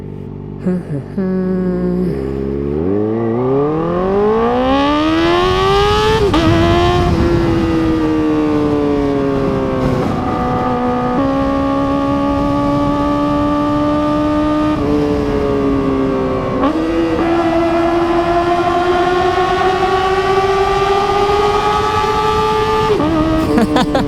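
A Kawasaki ZX-4RR motorcycle's intake howls while riding, loud and close, its high-revving wail climbing sharply and then rising again through several gear changes, dropping briefly between each shift, with no talking.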